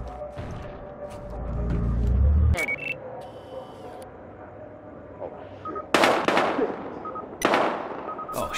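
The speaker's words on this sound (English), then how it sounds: "We've got gunshots." Several sharp gunshots in Battlefield Hardline ring out, spaced a few seconds apart, loud and cracking over a low background hum and scattered effects.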